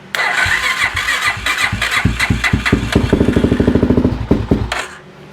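A Suzuki LTZ 400 ATV with valve train trouble cranks and fires up, a fast loud chugging rattle that catches and settles into a rough, close idle before cutting off.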